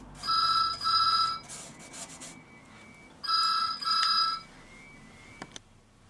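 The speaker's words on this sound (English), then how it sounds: "Sorry about that, slight phone disturbance." A mobile phone rings during restoration of a 19th-century Dutch oak box, two loud electronic ring bursts, a pause, then two more, with faint rubbing of finishing oil between them.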